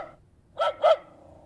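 A robot dog in the video game Ever17 Remake gives two quick, close barks in a row after a moment of near silence, then everything fades to quiet.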